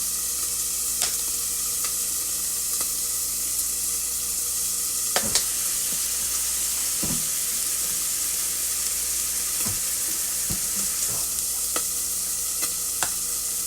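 Vegetables sautéing in a pan for chicken soup, a constant close sizzle broken by occasional sharp scrapes and clinks of stirring, with no talking.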